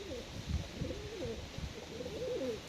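Pigeons cooing in a cellar loft; several soft, rolling coos overlap close by against a steady background hiss, with faint murmurs underneath.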